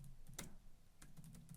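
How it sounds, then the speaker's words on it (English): Someone typing on a computer keyboard, a few soft separate keystrokes and one sharper tap close by over a quiet low hum, with no talking. "I'm just going to type in font style"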